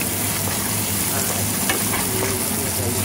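Onion and garlic fry in a pan, giving a steady, dense sizzle that fills the whole stretch at an even level, close up and with no talking over it.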